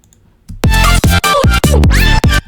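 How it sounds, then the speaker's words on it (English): A record scratch-like effect in an electronic music track, a run of loud, choppy bursts with pitch sweeping up and down, stuttering in quick rhythm. "it sounds kind of like a record scratch"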